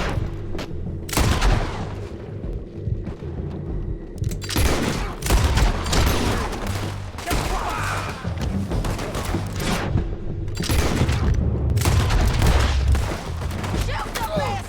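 In Red Dead Redemption 2, a heavy exchange of gunfire rings out in loud bursts and scattered reports over about fifteen seconds, with booming shots and occasional shouting voices in between.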